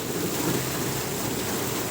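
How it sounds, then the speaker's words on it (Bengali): Heavy rain in Meherpur, a dense, even hiss of pouring water with no voices, steady and close throughout the short stretch. "প্রচুর পরিমাণে বৃষ্টি হয়েছে"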